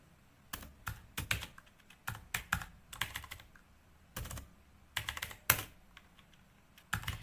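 Someone types on a computer keyboard, quiet nearby keystrokes coming in uneven clusters of rapid taps with short pauses between bursts and no speech.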